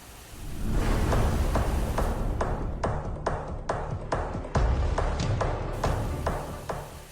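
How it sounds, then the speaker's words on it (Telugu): Sudden rain in a city, a loud, dense, steady hiss that swells in within the first second and carries on unbroken, with occasional dull thuds underneath. "సడన్గా వర్షం స్టార్ట్ అయింది"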